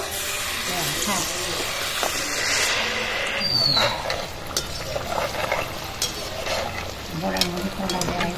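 Malpua batter made with ripe palm fruit fries in hot oil with a continuous close sizzle and hiss. Occasional stirring clinks sound, and a person talks over the frying throughout.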